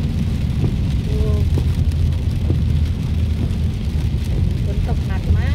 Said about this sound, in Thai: ฝนตกหนักมากดูบรรยากาศสิคะฝนตก